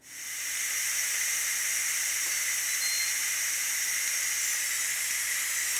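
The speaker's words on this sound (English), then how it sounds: "we still have a lot of steam coming out" Steam vents from a pressure cooker after cooking rice, a loud, continuous high hiss that rises quickly and then holds steady with nothing else heard.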